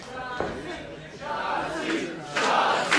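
A wrestling crowd cheers for Shotzi Blackheart in an indoor arena, a loud, continuous roar of many voices that swells toward the end.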